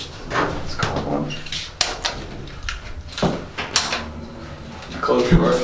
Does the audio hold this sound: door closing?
yes